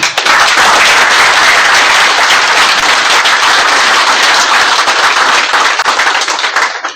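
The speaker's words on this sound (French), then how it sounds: "Je voudrais donc rendre un vibrant hommage en vous demandant d'applaudir pour le Premier ministre sortant" A crowd at a Chadian prime ministerial handover ceremony gives loud, dense, sustained applause for the outgoing prime minister, close and continuous, tapering off at the end.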